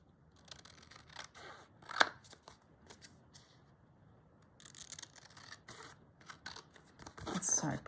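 Scissors snip through paper for a Christmas journal in a few scattered, close cuts, with soft handling rustles and quiet pauses between them.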